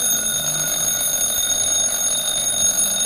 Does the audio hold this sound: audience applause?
no